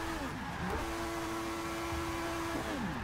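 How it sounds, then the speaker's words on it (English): Lotus in the racing game Forza Motorsport 6, stuck in first gear, its engine holding a loud, constant high-revving drone with brief pitch dips at the beginning and end. "Lotus struggling in first gear."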